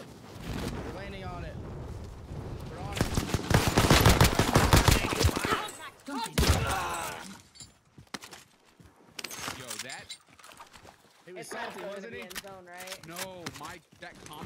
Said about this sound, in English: that combat shotgun just downed him in one shot